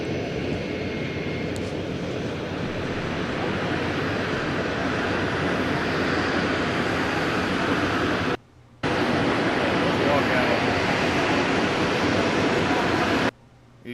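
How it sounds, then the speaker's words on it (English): Air Force One sits with its aircraft engines running loud and steady as the President deplanes, a broad continuous roar that breaks off twice for a moment. "You can hear all the plane sound"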